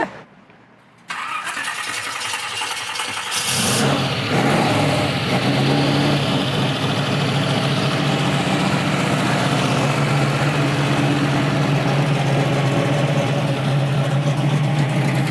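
A starter whirs briefly, then a 1967 Chevrolet Camaro RS stroker engine roars to life and settles into a loud, deep, rumbling idle that continues steadily, close up.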